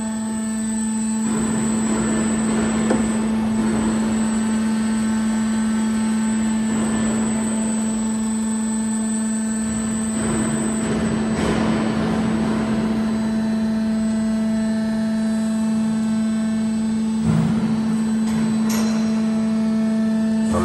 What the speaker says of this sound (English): this is Lotos CZU machine up to 5 millimeters drive by gearbox